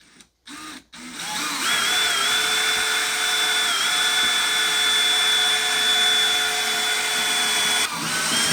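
Power drill boring through the wall of a towable RV, a loud, close, steady whine that holds for several seconds after two short starts, then stops near the end.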